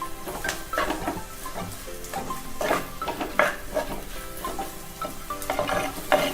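Onions with a little salt sauté in a pan as part of a chicken dish, giving a steady sizzle under repeated clinks and scrapes of a spoon against the pan.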